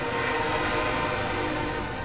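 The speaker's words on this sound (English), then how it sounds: "That's totally not a loud train" A loud train passes close by, a continuous dense rumble with a steady roar that fills the whole stretch without pause, heard alone with no talk.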